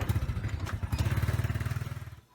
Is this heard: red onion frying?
no